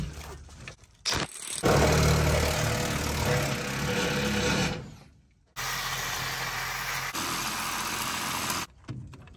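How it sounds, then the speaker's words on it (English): A steel cable being cut with a powered cutting tool, apparently a grinder, outdoors while taking down an old sign: a loud, steady, broadband grinding roar runs for about three seconds, briefly drops away, then returns for another three seconds. "cutting a steel cable isn't as easy as it sounds"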